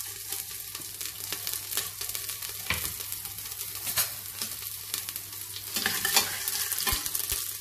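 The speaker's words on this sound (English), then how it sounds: "We'll saute this" Whole spices (khada masala) and green chili sauté in ghee in a pan, a steady soft sizzle with scraping stir strokes and occasional clinks, close and continuous with no talking.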